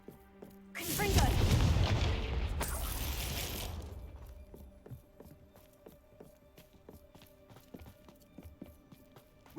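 A Confringo blasting curse erupts in the Hogwarts Legacy game as a loud, sudden explosive boom with crackling debris that sustains for a couple of seconds, then decays into quieter ambient clatter and faint footsteps.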